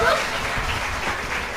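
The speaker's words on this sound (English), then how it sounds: "I think we can give them one more huge round of applause" Audience applause at a children's talent day of an ISKCON culture camp: a short burst of steady clapping from a crowd, fairly loud and even throughout.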